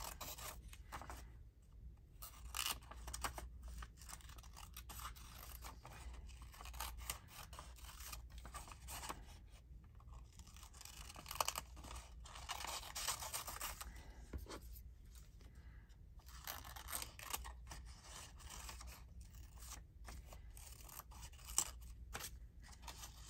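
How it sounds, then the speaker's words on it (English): Scissors snip steadily through paper, cutting out printed pockets in a quiet craft setting; the close, crisp cuts repeat almost continuously with brief pauses, alone with no talk. "Let's just cut them out."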